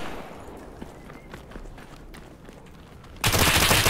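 9mm gunfire in the video game SCP:5K: a few faint scattered shots and footstep-like taps under room noise, then a sudden loud burst of dense rapid fire at the end.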